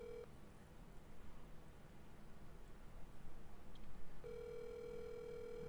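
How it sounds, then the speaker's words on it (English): A telephone ringing faintly through a low hiss, a steady electronic tone at the start and again near the end with a long quiet gap between. "Ringing again."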